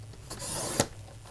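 Cardstock is cut to seven inches for a wedding card base: one short, close rasping slice builds and ends in a sharp snap, then a quiet rustle.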